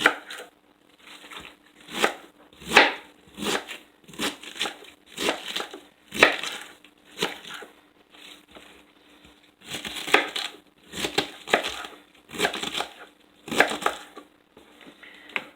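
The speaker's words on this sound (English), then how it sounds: "And then I'm just going to roughly chop this." A knife roughly chops cabbage for coleslaw on a cutting board, with the core already removed, giving repeated crisp crunching strokes in uneven bursts, close and fairly loud, with short pauses between runs of cuts.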